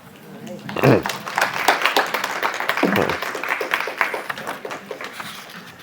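An audience claps after a poetry reading at a literary conversation event, a burst of scattered hand claps that swells and then tapers off.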